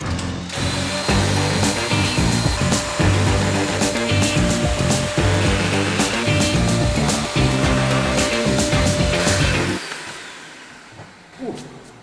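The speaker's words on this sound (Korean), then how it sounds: "일단 얼른 뚫어보자" A power drill bores a hole into a garage wall to mount a bracket, a loud, steady, grinding whine lasting about ten seconds before cutting off, followed by a brief faint clatter.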